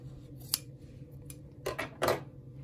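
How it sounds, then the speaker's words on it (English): Scissors snip through quilting fabric between two stitched lines for half-square triangles, a few quiet crisp cuts close by over a low steady hum. "And then I just cut between those two stitched lines."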